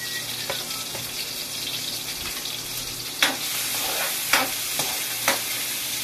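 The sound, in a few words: sautéing bitter gourd (ampalaya) with onion and garlic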